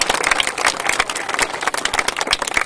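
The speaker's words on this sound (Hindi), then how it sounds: "एक बार ईश्वर के लिए ताली बजाओ भाई।" Audience applause at a village gathering, many hands clapping in a dense, steady wash that stays loud and close from start to finish.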